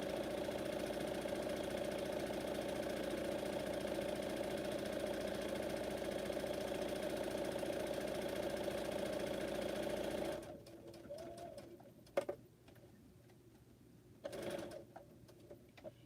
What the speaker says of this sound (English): And I like when I can just do mindless sewing and just let it run through.